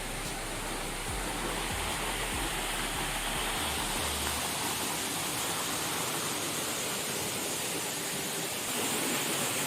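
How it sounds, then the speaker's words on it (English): A waterfall near the Mau Mau Stone Age Caves, heard from behind the falling water, gives a dense, constant roaring rush that stays loud and steady throughout, with low buffeting thumps early on and no voices. "right now we are at the backside of the waterfall"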